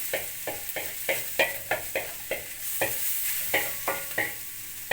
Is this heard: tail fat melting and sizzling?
yes